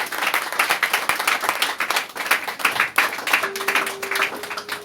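A church congregation applauding, dense sustained clapping from many people filling the room, pulsing slightly in intensity, with a faint tone entering near the end.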